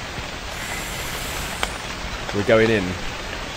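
Steady rain falls in a haunted shop video game, a continuous hiss of drops on surfaces that runs throughout, with a person speaking briefly over it near the end.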